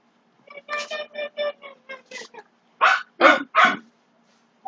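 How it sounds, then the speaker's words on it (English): Several dogs barking inside a house, a quick run of close, loud barks followed by three heavier, louder barks, with no talking over them. "yeah, there's a lot of dogs"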